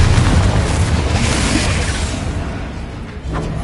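A Confringo blasting spell detonates in Hogwarts Legacy, a loud broadband boom that rolls into a long fading roar of debris and rumble, with a second smaller burst near the end.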